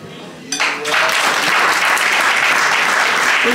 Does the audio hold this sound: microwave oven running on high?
no